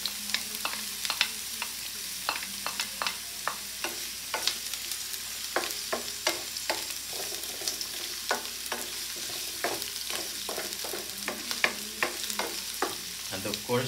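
Garlic fries in a pan for salmon sinigang, a soft continuous sizzle broken by frequent quick clinks and scrapes of a utensil in an irregular rhythm, close and moderately quiet, with no talking.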